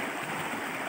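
Upstream river water rushing and churning over large volcanic boulders left by an old eruption, a steady, loud, close broadband roar with no pauses.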